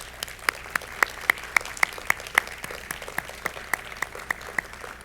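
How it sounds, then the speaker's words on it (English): Sharp, evenly spaced claps of applause at an awards show ring out in a steady rhythm, fairly close, with no talking. "I just want to give them another round of applause"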